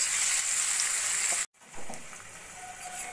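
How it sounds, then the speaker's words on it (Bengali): Flat beans frying in a pan as sesame seed paste is stirred in, giving a bright, steady sizzle that cuts off abruptly halfway through and returns as a quieter, softer hiss. "পেস্টটা ভালো করে শিমের সঙ্গে মিশিয়ে দেব।"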